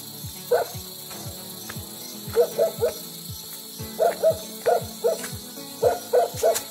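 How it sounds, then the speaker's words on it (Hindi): Mountain dogs bark again and again in a green valley village in the Uttarakhand hills, the barks arriving in short spaced clusters that sound distant and echo across the valley. "पहाड़ी कुत्ते भौंक रहे हैं, कितने जोर की आवाज आ रही है।"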